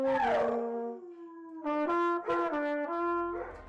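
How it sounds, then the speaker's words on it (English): A dog howls in long, wavering, rising and falling tones, joining in with trumpet playing, close and clear, several sustained howls in succession. "hanging out with his dogs, Jazz and Shaman, playing the trumpet with his dog Jazz accompanying him,"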